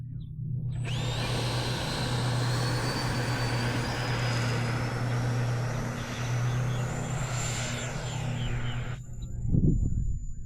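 An FMS Avanti S 70mm ducted-fan RC jet on a 6S setup flies overhead, a steady loud whooshing roar with a high whine that holds for several seconds, then cuts off abruptly.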